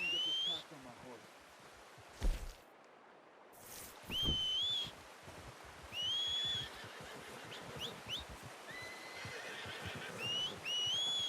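Horse in Red Dead Redemption 2 whinnies and snorts in short bursts over quiet outdoor game ambience with chirping birds, the neighs fairly close and recurring every few seconds.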